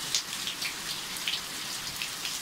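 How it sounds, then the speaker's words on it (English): Pea-sized chunks of hail falling in the San Fernando Valley, a steady close patter of small impacts with scattered sharper ticks, heard alone with no voices. "I've never seen the hail around where I live here in the valley."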